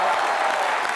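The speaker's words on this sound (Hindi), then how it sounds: "उनके लिए भी जोरदार तालियां बनती हैं" A studio audience on a Hindi comedy talk show breaks into loud, dense, continuous applause that fills the whole moment.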